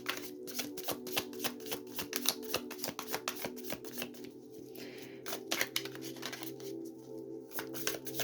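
A new deck of tarot cards is shuffled by hand, with close, steady rapid riffling and flicking that continues almost without pause, broken by a few brief lulls.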